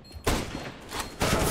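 Gunfire in the video game CS:GO comes as loud, dense bursts of shots, one cluster early and another toward the end, with rough noise between them.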